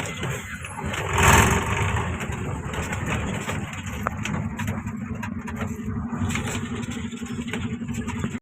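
A truck engine rumbles steadily on a drive through forest toward the Bangur cement factory in Purulia, with a brief louder surge early on and birds faintly audible.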